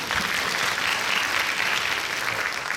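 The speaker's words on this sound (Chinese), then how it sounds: "那我们掌声欢迎我们今天的议题讲者" Audience at the COSCUP 2016 open-source conference gives steady, dense applause for nearly three seconds to welcome a talk speaker, with no voices over it.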